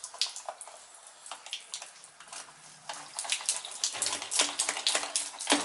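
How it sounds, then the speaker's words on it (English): Water drains from a gas water heater tank, splashing and trickling irregularly up close, growing busier and louder toward the end. "So it should be draining now."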